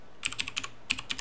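Quick bursts of keystrokes on a computer keyboard as a Linux command is typed for a Raspberry Pi 3 kernel build, about nine close, crisp clicks in two uneven flurries with a short pause between.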